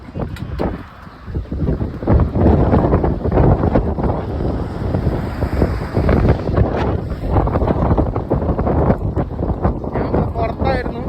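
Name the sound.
strong wind blowing outdoors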